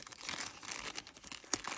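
The plastic bag of a diamond painting kit is opened, giving continuous close crinkling and rustling with one sharper crackle near the end and no talking.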